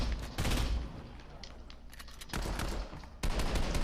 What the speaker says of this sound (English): somebody's keeps shooting my ass